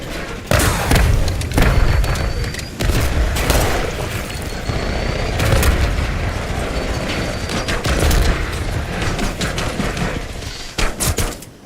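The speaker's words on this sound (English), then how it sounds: "Stun incoming. Incendiary. Incoming lethal!" Grenade blasts and stun and incendiary detonations from a Call of Duty match give repeated loud booms and thuds over dense gunfire, with brief gaps between bursts.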